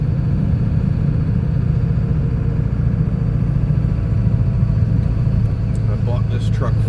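Ford 7.3 Power Stroke diesel truck with manual transmission running, a steady deep low rumble heard from inside the cab, loud and continuous.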